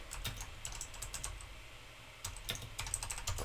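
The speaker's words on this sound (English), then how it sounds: "So now we type in cool" Rapid clicking on a computer keyboard, close and steady in two quick bursts separated by a short pause, over faint background hum with no voices.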